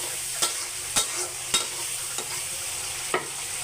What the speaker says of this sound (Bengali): আপনারা যতটুকু পারেন কষিয়ে নেবেন, যত কষাবেন তত আসলে স্বাদ আসবে।